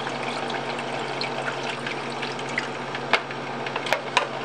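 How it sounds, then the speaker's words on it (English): Chemical is poured into the spinning drum of a Jobo CPE2 film processor, a trickling, gurgling liquid sound over the motor's steady hum, with a few small splashy clicks near the end. "Pour in your next chemical."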